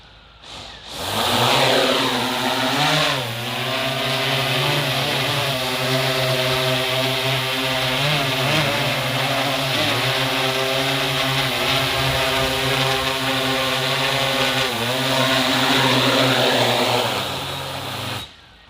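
A drone in flight gives a loud, continuous buzzing motor whine whose pitch rises and dips as it manoeuvres, with no talking.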